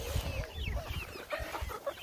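Backyard chickens in a flock cluck and make soft chirps close by, in short repeated bursts, while a dog is nearby.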